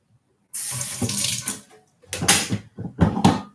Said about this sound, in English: So I'm going to pour this out here.